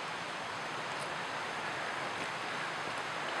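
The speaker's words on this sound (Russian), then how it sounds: "сопровождает только шум ручья, не слышно пение птиц" A babbling mountain stream runs alongside a mountain road in December, producing an even, unbroken hiss of flowing water at moderate distance with no birdsong and no talk.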